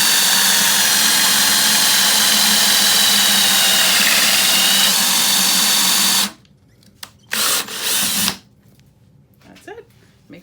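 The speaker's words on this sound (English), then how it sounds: "And you just drill." A power drill bores a concealed hinge hole through a clamped jig, whining loudly and continuously for about six seconds before stopping abruptly, followed by two short quieter bursts of drilling.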